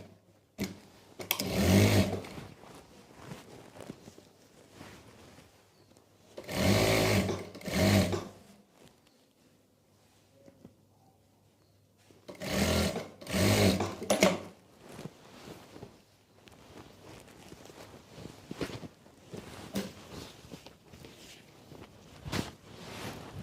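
A sewing machine stitches pleats into a salwar, with several close bursts of rapid whirring broken by quiet pauses between runs.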